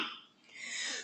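A short cough from a man with a cold, breathy and close, a single rasping burst with no talk over it.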